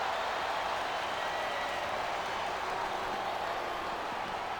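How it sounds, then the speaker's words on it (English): Wrestling arena crowd noise from WWE SmackDown vs. Raw 2007 on PS2, a steady dense roar of fans that fills the whole stretch at an even level, with no distinct words or rhythm standing out. "Wow, listen to that chant"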